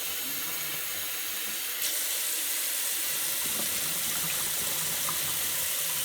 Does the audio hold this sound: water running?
yes